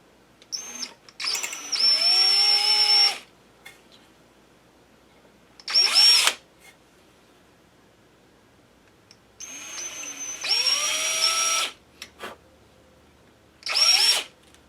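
A power drill whines up in four separate bursts, spinning and biting into wood as holes are started freehand, with quiet pauses between each run.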